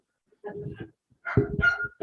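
A dog barks in two short bursts, the second louder and longer, separated by a brief quiet gap, fairly close and with no talk over it.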